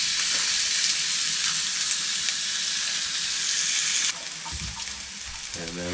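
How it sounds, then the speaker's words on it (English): Moose meatballs flash frying in hot oil in a tiny kitchen: a steady, dense sizzle that holds for several seconds, then drops in intensity near the end as faint clatter and handling sounds come through. "I want to flash fry them really quick and have them soak up a little bit of that oil"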